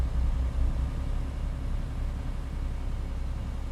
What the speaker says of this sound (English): do I need to turn the truck volume down just a little bit?